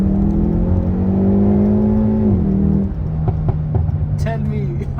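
A 2023 Hyundai i30 N with a DCT gearbox accelerates hard, its engine note climbing loudly through the revs, dipping at a gear change, then settling into a lower drone with faint clicks near the end.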